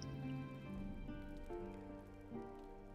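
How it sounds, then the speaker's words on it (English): Rain falling in the video game Wartales, a steady patter mixed under tonal game music, continuous and moderately quiet throughout. "It's raining."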